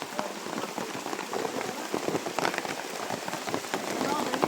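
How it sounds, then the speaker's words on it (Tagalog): Heavy rain pours down on surfaces in a dense, crackling hiss with scattered louder drops, steady and close, while voices speak faintly beneath it. "Sobrang ulan."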